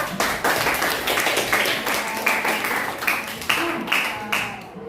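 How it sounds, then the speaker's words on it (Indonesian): A classroom group claps their hands together at the end of a guidance lesson, with brisk, somewhat uneven clapping of individual distinct hits and audible voices mixed in throughout. "tepuk tangan untuk kita semua"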